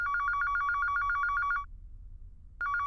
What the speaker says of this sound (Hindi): फोन।